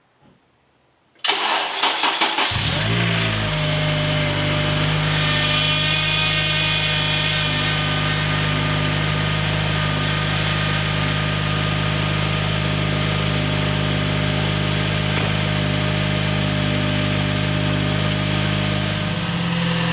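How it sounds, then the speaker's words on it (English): A Honda Civic Si with a newly swapped six-speed transmission and limited-slip differential cranks briefly after a quiet moment, fires up and settles into a steady, even idle that holds up close for the rest of the clip. "So I'm just gonna be turning the car on"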